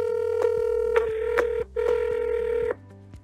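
An outgoing telephone call is dialed, with a quick series of keypad tones followed by a ringback tone on the line. The sounds are clear and alone, and the ringing cuts off near the end.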